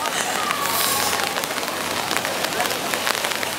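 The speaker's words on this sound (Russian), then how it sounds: "Все красиво, только жалко, дождь идет." Steady rain patters across the whole stretch at Asakusa, Tokyo, a constant hiss of drops hitting surfaces, with faint background voices mixed underneath.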